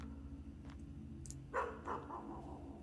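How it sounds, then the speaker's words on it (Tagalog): Two short dog barks with their echo tails, in the horror video game Graveyard Shift, set near a morgue. They sound fairly faint and distant over a steady low droning background, with no talking. "Yung tahol ng aso, parang totoo, pre."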